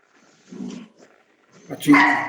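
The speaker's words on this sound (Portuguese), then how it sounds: "Meu cachorro, viu?" A pet dog barks and whimpers in a short burst: a soft low yelp first, a pause, then a louder, sharper bark-whine close by at the end.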